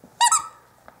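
A single short, bright squeak from a dog's squeaky toy, close and loud, followed by quiet with only a faint tap near the end.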